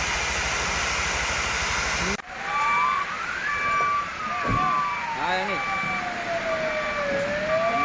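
A fire engine siren wails at an ONGC gas fire, rising and falling in slow, loud sweeps, joined by a brief horn blast, with people talking underneath.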